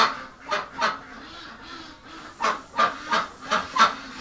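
Ducks in a barn on a winter day honk loudly in a series of brassy calls, two early honks and then a quicker run of five or six more, with no voices.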